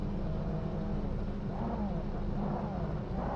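Toyota Supra GT500 race car engine at Imola in the racing game Project Motor Racing, a steady low droning roar with rising and falling pitch sweeps as it revs through gears, loud and continuous.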